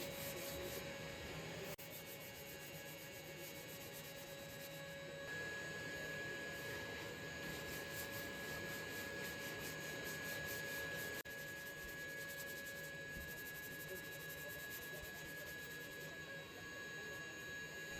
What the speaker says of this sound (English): Now the sanding.